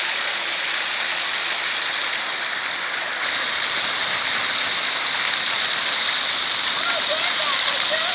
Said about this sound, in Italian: una fontana che è stata ristrutturata, sentiamo il rumore dell'acqua